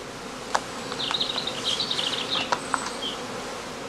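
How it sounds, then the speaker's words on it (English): A cast swarm of bees is gathered into heather skeps, a close, fluctuating buzz of many bees rising and falling over a few seconds, punctuated by a few sharp knocks and taps. "fills each skep with about 2 wooden platters full of cast bees"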